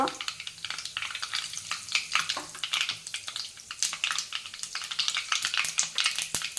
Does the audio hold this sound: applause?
no